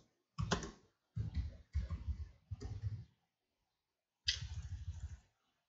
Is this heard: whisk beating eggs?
no